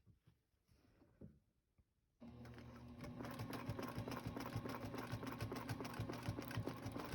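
A sewing machine stitches a quilt border, starting abruptly after a quiet stretch and then running steadily and loudly with a fast, even mechanical rhythm to the end.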